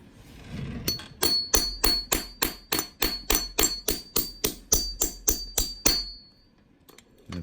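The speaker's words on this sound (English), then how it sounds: "you put the punch on, and just hammer it through" A hammer striking a steel punch through a quarter coin in about fifteen steady, ringing metallic blows close by, each with a sharp clang and short decay, then silence.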